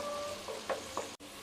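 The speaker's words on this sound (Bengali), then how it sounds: "ডিমটা ভালো করে নেড়ে মিশিয়ে দেব।" Beaten egg with a little salt sizzles steadily in a pan while being stirred, with a couple of soft scraping strokes over the constant frying hiss and a brief cut near the end.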